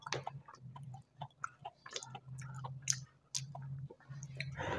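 Crunchy strawberry ice cream cone with a chocolate-filled tip being eaten close up, giving wet chewing and crisp crunching bites in an uneven rhythm over a low steady hum, with no talking.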